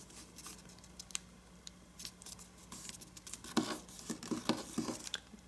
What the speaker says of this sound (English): let's fold this corner to this corner